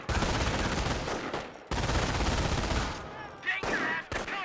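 MG42 machine gun fire in Company of Heroes 1, dense rapid bursts of rattling shots, two long sustained volleys followed by shorter ones, with faint voices underneath.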